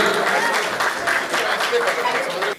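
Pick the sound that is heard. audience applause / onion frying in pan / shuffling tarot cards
audience applause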